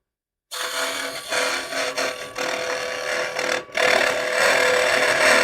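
A hand turning tool takes small cuts on a spinning wooden piece on a lathe, giving a loud, continuous scraping rasp with brief pauses, then a sustained, steadier cut to the end.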